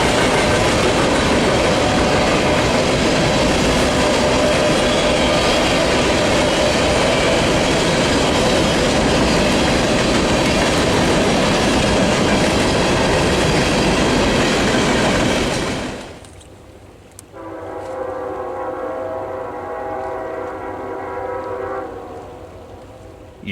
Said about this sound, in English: You can hear the distant K5 LLA in the quiet night